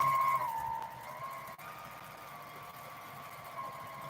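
A domestic sewing machine runs at a steady, even speed while free-motion quilting feathers, giving a continuous motor whine that stays moderately loud and unbroken, with no talk over it.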